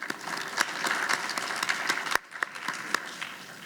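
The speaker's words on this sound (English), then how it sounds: "please give yourselves a round of applause" A large lecture-hall audience at a public forum talk breaks into applause, a dense clatter of many hands that holds steady and then drops off abruptly, leaving a few scattered claps trailing into a quieter room.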